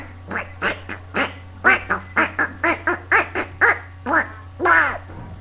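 A person imitates duck quacks with the voice: a rapid string of about fifteen loud, nasal quacks at an uneven rhythm, close to the microphone, ending in one longer drawn-out quack, with no other voices.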